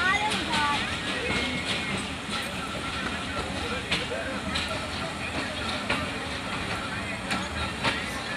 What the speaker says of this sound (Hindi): रवाना हो चुकी है हजारा एक्सप्रेस।